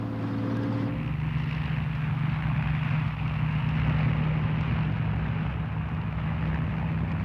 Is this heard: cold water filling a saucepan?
no